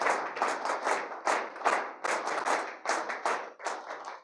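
An audience at a session start claps loudly and continuously in dense, rhythmic bursts, sharp hand claps close by with no talking.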